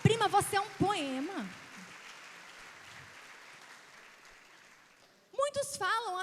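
A congregation gives a soft, sustained round of applause during a church sermon; the clapping sits low and diffuse between stretches of a voice that open and close the moment.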